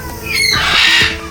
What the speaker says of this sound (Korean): 마카오 앵무새